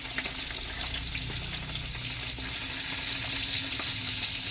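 Fish frying in spattering hot oil, a dense, steady close-up sizzle with crackling pops and a few faint stirring knocks, no voices.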